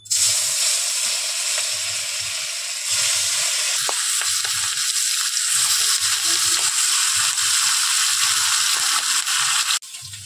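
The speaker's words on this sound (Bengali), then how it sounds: "এবার মাছগুলো বেশ লাল লাল করে ভেজে নেব।" Fish rubbed with salt and turmeric frying in hot oil in a pan gives a loud, steady, hissing sizzle throughout, with faint clicks and knocks beneath, dropping off sharply just before the end.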